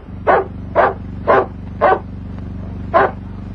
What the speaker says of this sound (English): That's no wolf, it's a dog.